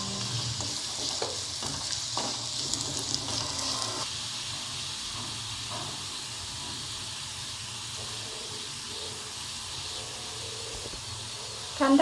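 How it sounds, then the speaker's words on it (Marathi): Onion, coconut and poppy seeds frying in a pan for sev bhaji, a steady close sizzle and hiss with occasional scraping from stirring, continuous throughout with no talk. "इथे कांदा परतून झाला आहे, त्यात खोबरे परतून घेऊ"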